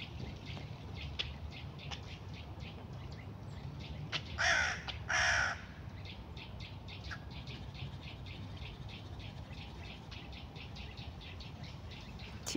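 Hooded crow giving two loud, harsh caws close by in the middle, standing out over steady outdoor background noise and fainter distant bird calls.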